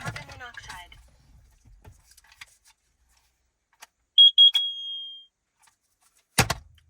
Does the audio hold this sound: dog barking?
no